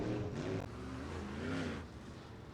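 IMCA modified race cars on a dirt track roar loudly with a steady revving engine note that rises and falls, close and continuous throughout.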